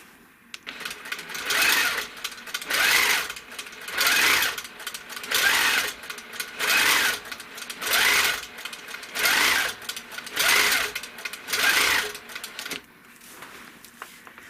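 A sewing machine stitches forward and back in steady bursts, about nine loud runs of even mechanical whirring separated by brief pauses, with no talking.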